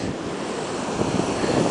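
Atlantic Ocean surf on the beach at Long Beach Island, New Jersey, a broad continuous roar of waves with wind buffeting the microphone, swelling slightly toward the end.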